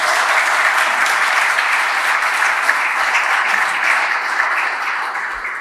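A large crowd applauds, dense, loud and sustained, the clapping holding steady for several seconds before easing slightly at the end.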